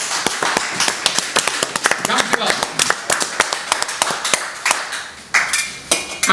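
Dense clapping from a crowd, a steady burst of applause with sharp individual claps over a busy room, at a carnival proclamation event in Grave, Netherlands.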